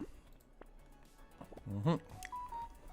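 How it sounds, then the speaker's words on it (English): A couple of short electronic beeps from a phone ring out over quiet room noise, with a brief voice in the background. "Thank you for beeping at me."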